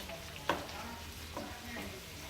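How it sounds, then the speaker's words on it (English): Garlic sizzles in butter and oil in a tilted skillet while rockfish is being pan-seared, a quiet steady frying hiss broken by a sharp clink and a few soft stirring scrapes. "Lean the skillet a little bit so all of those items can get into the oil and butter."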